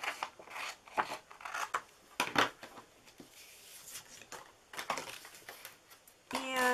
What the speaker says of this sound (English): I'm going to need to cut this smaller.